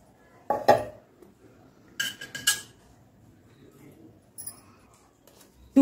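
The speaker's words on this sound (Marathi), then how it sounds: "तर याच्यामध्ये मी टाकून घेते तूप। आपण 2 चम्मच तूप टाकून घेऊ।" A metal spoon clinks against a kadhai heating on a gas stove as ghee is added, a few sharp scattered taps and scrapes with quiet gaps between them.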